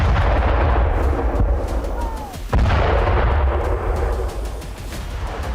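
Heavy rumbling blasts at a Russian weapons depot in Kursk, a continuous roaring barrage of explosions with one sharp crack near the middle, loud and unbroken throughout.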